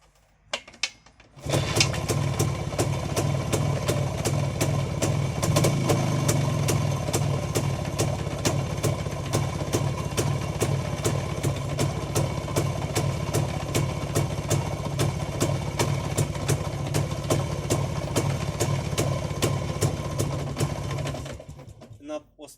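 A Jawa motorcycle engine fitted with a new ignition commutator fires up after a brief pause and settles into a steady, rapid idle that stays loud and close for about twenty seconds before cutting off.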